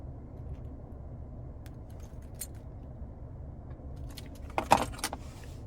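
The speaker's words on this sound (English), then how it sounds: "here we have this really nice and functional key fob" Keys on a 2021 Genesis G80 Prestige fob jangle briefly and close by, a few light metallic clinks near the end over a steady low car-cabin hum.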